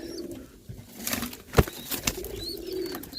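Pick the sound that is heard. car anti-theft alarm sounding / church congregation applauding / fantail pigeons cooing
fantail pigeons cooing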